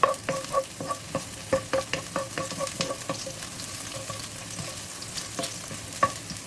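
Onion and garlic browning in a hot pan sizzle continuously while a utensil scrapes and taps the pan in irregular strokes, close and moderately loud with no talking.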